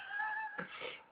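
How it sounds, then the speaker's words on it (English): A cat freed from tape gives one drawn-out meow followed by a rougher, breathy mew, close and moderately loud against a quiet background. "Video of the cat after removal shows a seemingly happy animal, purring and apparently unafraid of its human handlers."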